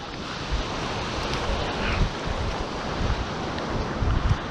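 Ocean waves wash steadily onto the Suffolk coast, a continuous broad roar of surf mixed with wind buffeting the microphone, with no voices.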